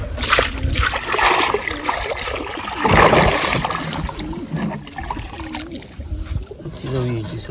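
Water pours from a can into a trough, splashing and trickling continuously with a few louder gushes, while a voice sounds intermittently nearby.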